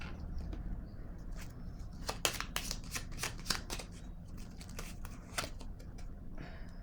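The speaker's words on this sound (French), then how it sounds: "je vais piger une autre carte ici." A card is drawn from a deck, close and quiet, with a run of crisp flicks and riffling snaps over faint room noise.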